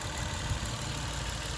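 A 2010 Dodge Caravan SE mobility van's 3.3 V6 engine idling under the open hood, a steady low hum with an even, smooth tone and no voices.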